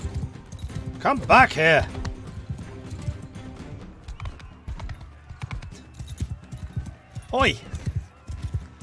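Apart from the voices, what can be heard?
horse galloping in Mount and Blade 2: Bannerlord video game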